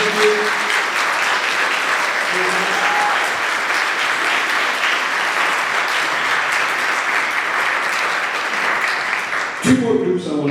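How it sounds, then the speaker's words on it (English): Students in a school auditorium clap for their parents at a symphonic band concert, a loud, steady wash of applause lasting about nine seconds before fading into a brief rustle and murmur at the end. "can the students give their parents a little bit of applause right now?"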